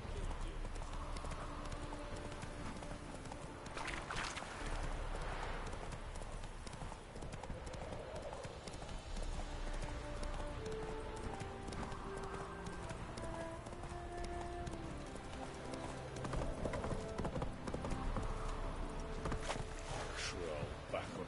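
Roach the horse galloping in The Witcher 3, with steady rhythmic hoofbeats running throughout under game music and ambient sound, plus an occasional whinny and some talk over the top.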